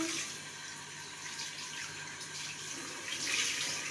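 Tap water runs steadily into a kitchen sink while something is washed during an iftar visit at a home, a quiet continuous hiss and splash with no talking.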